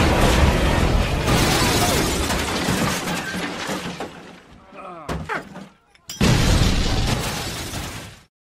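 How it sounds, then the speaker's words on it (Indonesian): An RPG attack in the film The Kingdom: loud sustained blasts and roaring debris, a brief lull with scattered cracks and clatter, then another heavy explosive roar that cuts off abruptly. "tiba-tiba mereka diserang oleh RPG"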